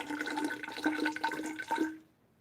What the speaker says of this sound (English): So let me put about 50 grams of water.